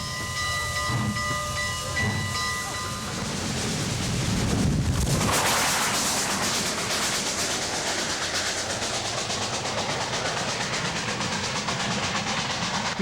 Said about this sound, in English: listen to a steam locomotive